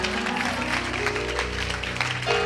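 A church congregation claps for the reader in a dense, continuous burst of applause that stays fairly even throughout, with music playing underneath.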